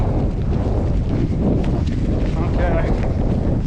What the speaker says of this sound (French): La pluie et le vent.